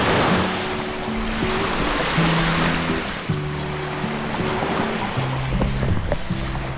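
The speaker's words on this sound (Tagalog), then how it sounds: "Ngayon ko lang narinig mismo yung alo ng tubig dagat." Continuous rush of sea waves washing onto Siruma Pink Beach, Camarines Sur, steady and fairly loud, with some wind noise and a low tonal hum underneath.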